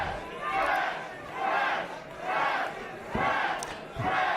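A wrestling crowd at a steel cage match chants 'trash' in a steady, loud rhythm, with roughly one-second swells of massed voices repeating over and over.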